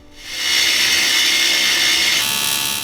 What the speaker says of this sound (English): And any drilling or milling that's needed doing is done here.